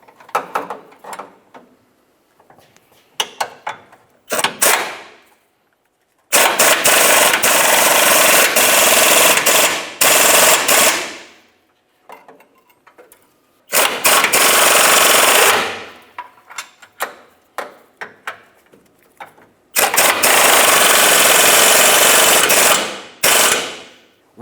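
Impact gun driving leaf spring hanger bolts on a 1994-2002 Dodge Ram 2500: three long, loud, rattling hammering bursts of several seconds each, separated by pauses with faint clanks, no talk.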